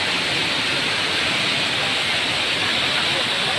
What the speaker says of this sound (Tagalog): Lakos pa na ang tubig dito.